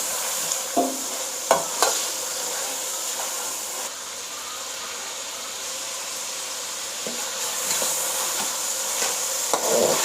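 Chicken karahi with ginger-garlic paste sizzles in a pan while a utensil scrapes and knocks against the metal in a few scattered strokes over a continuous frying hiss, close by and without speech.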